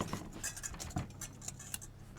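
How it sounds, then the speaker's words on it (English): A knife scrapes and cuts the skin from a butternut squash, making faint, irregular scratching strokes and small taps on a cutting surface, quiet and close. "I'm just going to cut the skin off with the knife here"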